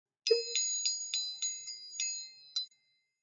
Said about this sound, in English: This is a triangle.